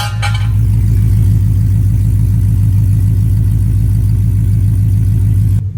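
A freshly rebuilt Ford Mustang GT V8 runs after its first start, a loud, close, steady low idle with a rhythmic lumpy pulse and no talking.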